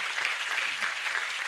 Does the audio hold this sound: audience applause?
yes